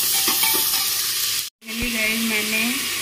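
Medium onion frying in hot oil with cumin, chili and bay leaf, a steady close sizzle that breaks off briefly and resumes, with a faint engine-like hum in the background.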